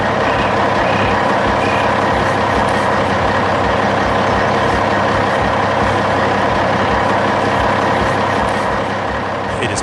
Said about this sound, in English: That yellow dump truck is carrying the skeleton of our future building.